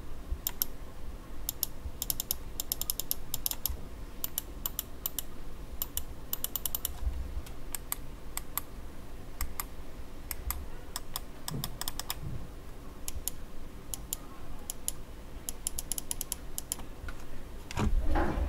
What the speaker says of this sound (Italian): Per quanto riguarda la rumorosità dei tasti, proverò, anche se non è semplice, a farvele apprezzare avvicinando il nostro microfono.